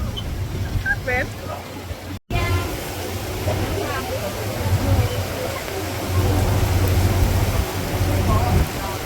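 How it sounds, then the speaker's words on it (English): Heavy rain pours on a boat in Paris in a steady, dense hiss over a low rumble, with a few people talking and exclaiming through the downpour. "On the boat though, we had a crazy downpour."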